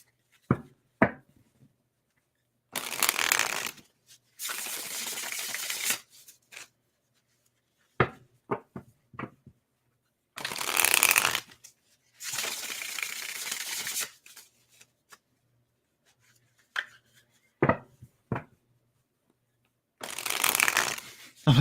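Tarot cards being shuffled in several loud riffling bursts of a few seconds each, separated by softer taps and knocks as the deck is handled.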